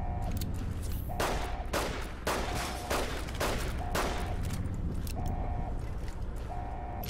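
Gunfire from a Fallout: New Vegas gunfight, a series of loud, sharp shots spaced unevenly across the stretch over a steady background hum.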